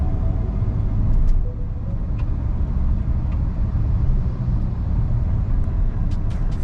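From the rear seat of a Hyundai Verna cruising at 80 km/h comes a steady, low, broadband road rumble and cabin hum, even and continuous, with faint tyre and wind texture and no speech.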